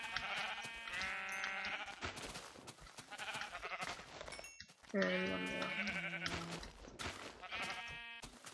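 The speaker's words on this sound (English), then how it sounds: "Well, there's tons of sheep and mushroom cow." Sheep in Minecraft bleat repeatedly in short, wavering calls, several overlapping bursts scattered through the scene while someone talks over them.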